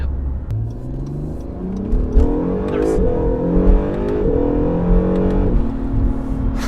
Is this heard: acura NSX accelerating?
yes